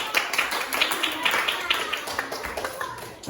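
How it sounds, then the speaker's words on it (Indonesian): Group clapping in a classroom setting, a brief run of fairly rhythmic claps, some landing together in a patterned beat, mixed with voices of people talking over it. "kita kasih tepuk"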